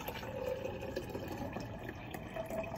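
Water poured into a large container for a colourful rain-in-a-glass craft, a faint steady trickling and splashing stream with no talking.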